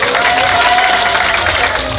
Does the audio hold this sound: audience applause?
yes